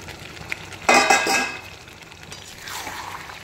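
Meat and potatoes drop into hot oil in a home kitchen, a sudden burst of sizzling with metallic clinks of a pan and utensil, then a softer crackle as they settle and fry.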